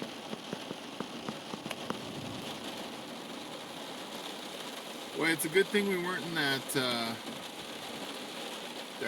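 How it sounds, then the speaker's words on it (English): Heavy rain pours down on a campsite in Colorado during a lightning storm, a steady dense hiss throughout, with people talking over it. "I think this is the biggest amount of rain that we've had in Colorado."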